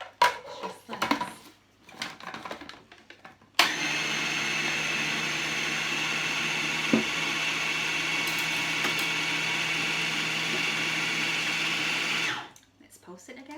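Food processor pulsing a beetroot falafel mixture, a loud steady whirring burst of about nine seconds that cuts in sharply and stops abruptly, framed by quieter kitchen clatter before and after.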